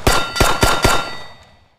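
Four quick shots strike steel targets in the Practisim shooting simulator, each a sharp metallic ding with a ringing decay that fades out after the last hit.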